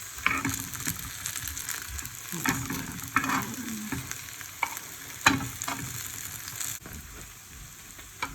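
Food sizzles and crackles in a hot pan, with occasional stirring clatters and scrapes over a steady frying hiss.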